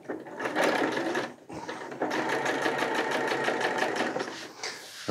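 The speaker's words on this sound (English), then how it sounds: "you're gonna have to be shoving a lot of nylon down the side there of your sewing machine" A sewing machine stitches nylon tarp fabric in close, fast bursts, pausing briefly before a longer steady run of rhythmic needle clatter.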